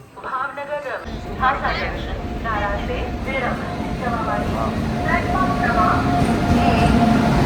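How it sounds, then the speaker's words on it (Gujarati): A train rumbles continuously as it arrives at a station in Gujarat, swelling slightly louder over time, with people talking over the mechanical noise throughout. "પાંચ ને ત્રીસે ટ્રેન આવી છે"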